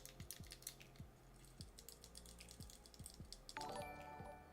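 The clicky buttons of a Game Boy Advance are pressed repeatedly, giving sharp, close, quiet clicks in an irregular rhythm, followed by a brief electronic tone at the end.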